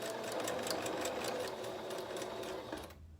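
A sewing machine back-stitching a fabric face mask, giving a close, fast, even mechanical chatter that runs steadily and then stops abruptly, with no talk.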